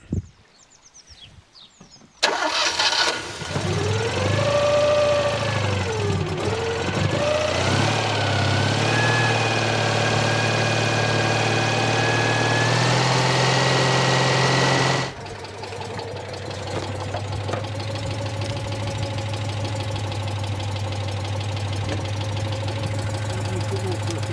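A Citroen 2CV engine idles steadily after a clunky start, a loud close rumble with a whining tone that sweeps up and down before settling into an even tick-over.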